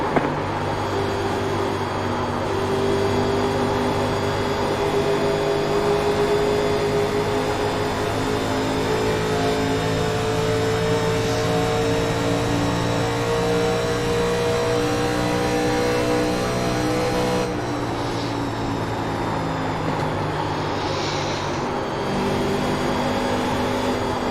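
NASCAR 1987 Legends race car engines roar steadily in the iRacing game at Michigan, a sustained high-revving drone with a shift in pitch near the end and faint engine layers from nearby cars.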